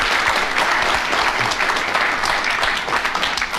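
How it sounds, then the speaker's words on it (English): A large radio panel-show studio audience applauds loudly and continuously, a dense wash of clapping that holds steady throughout. "a round of applause for Derek Nimmo."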